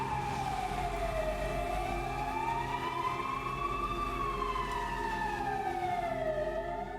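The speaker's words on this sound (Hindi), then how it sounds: "सायरन की आवाज़ अब डर नहीं, एक्साइटमेंट लाती थी" A wailing siren rises and falls steadily over a constant low rumble, sounding fairly close and continuous throughout.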